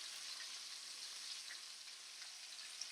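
Steak fingers fry steadily in a pan, a continuous soft hiss and crackle with faint scattered pops, constant in level and with no talking.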